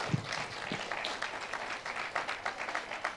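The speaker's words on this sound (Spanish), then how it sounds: "Denle un aplauso al Dios Todopoderoso." A church congregation claps and applauds during a sermon in Utah, producing a moderately loud, dense burst of clapping that lasts the whole moment.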